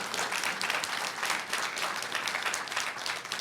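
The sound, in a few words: applause at a school board reception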